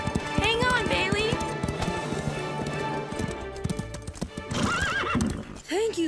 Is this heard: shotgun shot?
no